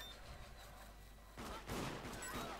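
Bursts of rapid gunfire in the video game Deceit, faint and muffled at first, then louder volleys in the second half.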